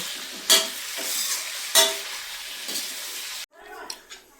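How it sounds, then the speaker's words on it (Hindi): Peas and potato curry with spices being stirred and fried in a pan, with bursts of sizzling and spoon scrapes recurring every second or so before the frying briefly cuts out and resumes. "मैंने मसाले डाल दिए, अब इसे मिला दूँ।"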